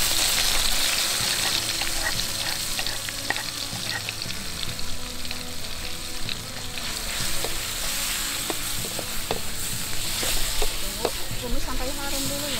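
Hand-ground spice paste stir-frying in a hot pan, a continuous sizzle and crackle with scraping stirs and small clicks throughout, close and fairly loud.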